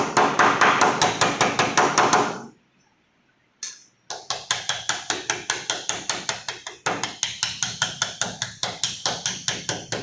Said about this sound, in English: this is bent with the help of soft hammer to eliminate the sharp edges.